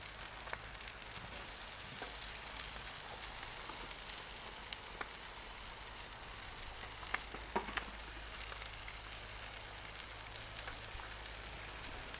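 Salmon steaks frying on a hot griddle, a steady close sizzle with faint crackles and pops throughout, no voices.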